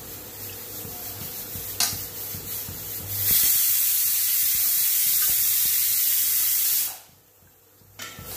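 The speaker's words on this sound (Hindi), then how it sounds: "कितना पानी उबल रहा है देख लो आप लोग।" Water boiling in a cooking pot on an Indian home stove, a close, steady rushing hiss that swells loudly for several seconds and then drops away sharply.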